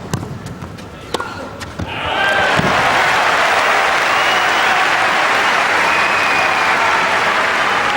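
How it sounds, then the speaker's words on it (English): At a 2005 Paris tennis final, a few sharp ball strikes and claps give way to sustained applause from the player's box and crowd, loud and steady to the end. "the applause in that box, understandable, because at last he's hauled himself to double set point"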